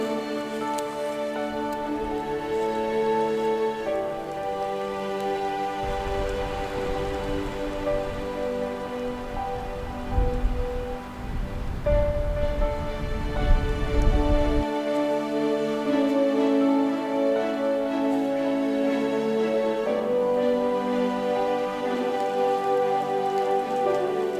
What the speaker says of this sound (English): It's kind of starting to rain a little harder now.